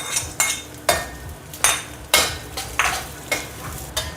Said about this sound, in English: Saute on low to medium heat until the edges start to turn golden brown like this.